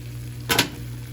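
Spaghetti being cooked and stirred in a pan, heard as one short, loud scrape-and-sizzle burst in the middle of an otherwise quiet stretch with a low background hum.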